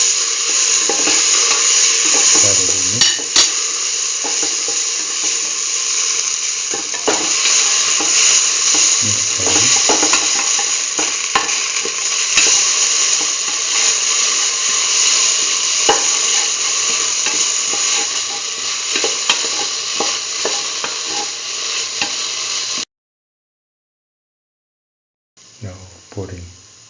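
Okra stirred with mustard paste as it fries in a pan. A continuous sizzle runs under repeated scraping strokes of the spoon, then drops briefly to silence before a few more stirs.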